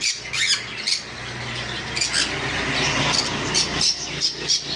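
Many caged birds squawking and chattering nonstop in a pet bird shop stocked with lovebirds, cockatiels, conures and Java sparrows, a dense, loud, shrill chorus close by.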